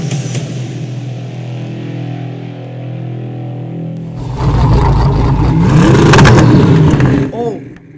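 A navy blue Hennessey Venom F5 hypercar with silver rims revs its engine: a steady droning hum, then a sudden louder roaring, crackling burst as the exhaust shoots flames, with a voice talking over it.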